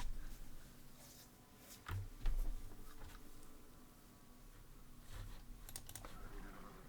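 Soft typing on a computer keyboard, with scattered key clicks under low background noise during an Age of Empires II game session.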